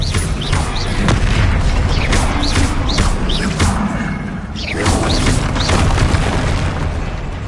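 Repeated Bombarda spell blasts from Hogwarts Legacy, booming explosions with crashing debris, loud and dense throughout with a few brief high magical whooshes.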